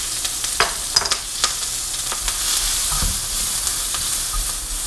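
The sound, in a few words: onions sizzling in hot oil for lo mein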